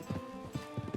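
Horse hooves clip-clopping in Red Dead Redemption 2, a few uneven hoof thuds close by over a low ambient game soundscape.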